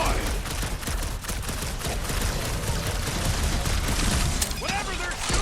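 Rapid gunfire and mechanical clatter from a fight in the Guardians of the Galaxy video game, a loud, dense fusillade running throughout with shouted dialogue partly mixed underneath.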